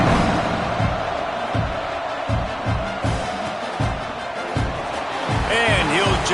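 Stadium crowd at a Houston football game buzzing after a touchdown and extra point, a loud, sustained roar of many voices with scattered shouts and whoops, a commentator talking over it throughout.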